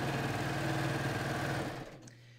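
A serger sewing machine chaining off thread, running with a steady fast mechanical whir close by, then winding down and stopping near the end.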